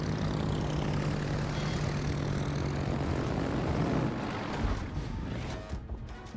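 Propeller aircraft engine droning steadily and loudly in the World of Warships naval combat game, a continuous close hum that thins and fades slightly near the end.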